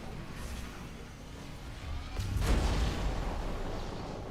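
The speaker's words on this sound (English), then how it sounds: "It could be a morph ball explosion." A morph ball bomb goes off in the video game Metroid Prime 4, a single deep, booming burst rising out of a low rumbling game soundscape.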